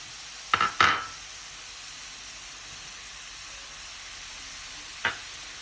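Mushrooms drop into a pan of pork with a few sharp thuds and clatters, followed by a faint, steady sizzle and one more light clink later.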